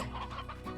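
A rooster in the video game Slime Rancher clucks repeatedly in quick, rhythmic bursts, fairly close and steady throughout, with no one talking.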